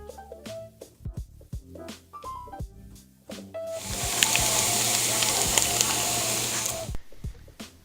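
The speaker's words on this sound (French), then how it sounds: "Il vous faudra bien sûr du bacon que nous allons émincer pour ensuite colorer à la poêle jusqu'à temps qu'il soit bien doré" Chopped bacon hitting a hot frying pan and browning, first a few knife-like taps and clatter, then a strong steady sizzle that runs for several seconds before cutting off, with more taps after.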